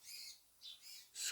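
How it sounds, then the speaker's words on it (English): Small birds squawk at a feeder in a few short, shrill bursts, close and fairly faint, with no voices. "squeaking and squawking."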